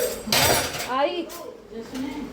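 Metal spoons clink and rattle as they are pulled out of a kitchen drawer, a loud jangle early on followed by lighter knocks, with people talking over the clatter.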